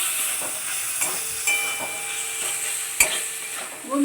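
A coriander and turmeric spice mix sizzles loudly in a pan while it is stirred and fried. A hiss runs steadily underneath, with a few sharp scrapes and knocks from the utensil.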